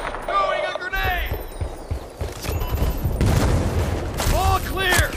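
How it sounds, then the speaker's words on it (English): Combat in the video game Battlefield: Bad Company 2, rapid gunfire bursts and a booming grenade blast amid battlefield noise, with voices shouting over the action. "Throwing a grenade!"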